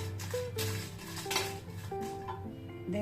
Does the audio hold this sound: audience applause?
no